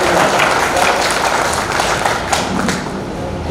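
An audience at a Hindi poetry gathering claps for a poet: dense, loud applause that runs throughout, with scattered thumps and taps mixed in.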